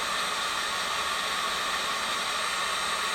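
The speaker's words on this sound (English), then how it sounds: "I'm heating up a piece of this plastic over my heat gun." A heat gun blows hot air steadily onto a piece of thermoplastic, a close, even broadband roar and hiss that holds constant without a break.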